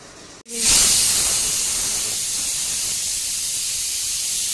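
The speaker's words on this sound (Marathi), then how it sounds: "आता मी कुकर लावले," After a brief quiet moment, a pressure cooker on a kitchen stove bursts into a loud, steady hiss of escaping steam that continues unbroken, close by.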